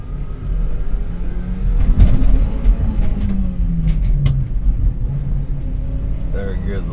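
Japanese Kei truck engine while driving at full throttle, a steady low rumbling drone with rising revs and road noise throughout, close and loud.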